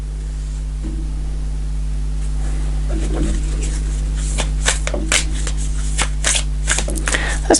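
Tarot cards shuffled by hand in a series of crisp, riffling flicks and snaps that grow busier toward the end, over a steady low hum, with no voice.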